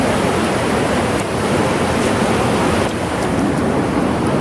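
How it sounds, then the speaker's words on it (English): A mountain river near Tahoe rushes loudly and steadily, a dense, close roar of churning water that never lets up and has no voices over it. "You like this mighty river"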